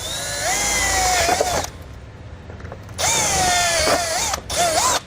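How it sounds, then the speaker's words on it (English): A power drill with a 1/4-inch bit runs in two loud whining bursts while drilling a hole on a 2019 Ram, pitch rising and dipping under load, with a short pause between them. "I'm going to use my 1/4-inch drill bit one more time."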